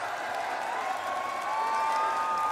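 A large arena crowd at the Rainbow Six esports finals in Rio roars and cheers continuously, a dense, sustained wash of voices that swells slightly toward the end.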